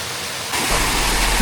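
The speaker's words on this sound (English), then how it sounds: "listening to the roar of the falls" Sixty-foot Machine Falls at Short Springs Natural Area roars in a steady broadband rush that swells louder partway through and stays close and continuous.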